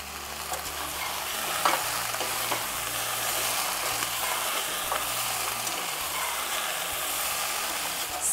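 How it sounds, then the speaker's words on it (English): Peppers and potatoes sizzle steadily in a hot pan, seasoned with black pepper and salt, with a few scraping stirs cutting through the constant frying hiss; no one talks. "So we have been stirring and cooking and mixing the peppers and the potatoes together"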